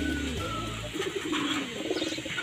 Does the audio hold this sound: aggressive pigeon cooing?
yes